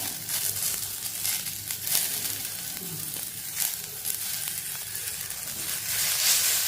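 Steady, close sizzling and frying of onions and coriander leaves in a hot pan, with occasional scraping stirs breaking through the crackle.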